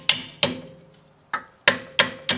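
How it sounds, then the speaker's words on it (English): Light hammer taps on a Mercedes rear brake pad ring out nearby: two quick strikes, a pause, then four more evenly spaced, each leaving a brief metallic ring. "take a hammer and very gently hit the pad just to loosen it"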